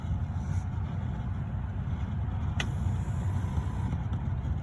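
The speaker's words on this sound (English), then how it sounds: "Now I've got air blowing out my vents" A 1996 Honda Accord's HVAC blower pushes air out of the dash vents as a steady, low rushing drone inside the car, continuous and fairly loud with a brief faint click partway through.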